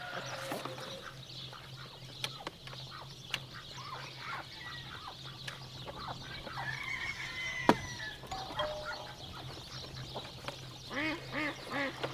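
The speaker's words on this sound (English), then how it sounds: "Look at those, the ducks are having a good time." Farm ducks quack faintly and intermittently, with scattered calls and short bursts over a steady low hum.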